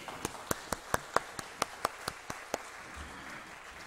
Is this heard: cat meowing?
no